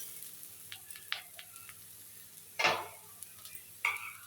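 Vegetables with taro stems and potatoes cook in a pan for a chorchori. A spatula stirs them with a few sharp scrapes and clinks over a faint sizzle, and the kitchen is otherwise quiet.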